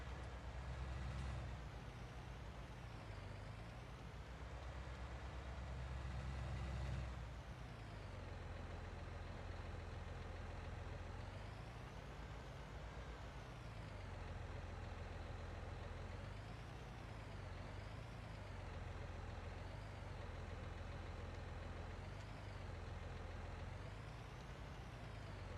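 A tractor engine runs steadily while reversing a trailer, a loud, continuous low drone with slight shifts in pitch as it maneuvers, heard alone without talk.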